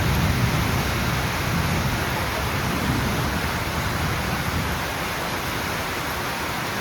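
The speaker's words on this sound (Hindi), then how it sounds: "यहाँ पर में हो रही है बहुत बारिश" Heavy rain pours onto a house rooftop in a steady, dense hiss that stays loud and constant from start to finish, with no voices over it.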